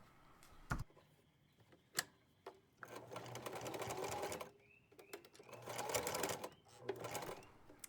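A sewing machine stitches the straps of a MakerMask face shield, running in two sustained whirring bursts with rapid clatter. Sharp clicks and pauses come between and after the bursts, close and fairly quiet.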